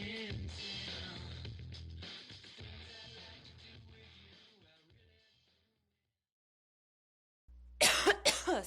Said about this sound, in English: Cut that cough out.